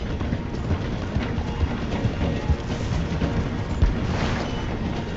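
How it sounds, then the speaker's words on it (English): A train in the video game Red Dead Redemption 2, rumbling and clattering steadily as it slows through a station, with rhythmic wheel knocks over a dense, continuous low roar. "The train is slowing down to go through the station."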